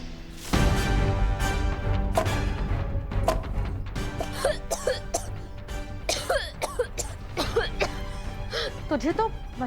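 A woman coughs repeatedly from the sharp smell of spices and chili being pounded, harsh fits of coughing and throat clearing, with voices talking around her.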